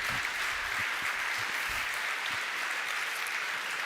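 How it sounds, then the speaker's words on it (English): Audience applause at a Checkmk software conference award moment, a continuous even wash of clapping from a sizable crowd, moderately loud and steady throughout. "let's give a big round of applause"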